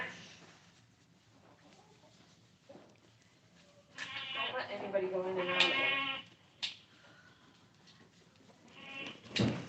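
Goats bleat loudly in a burst of overlapping calls, with quieter moments before and after, while a person speaks briefly nearby.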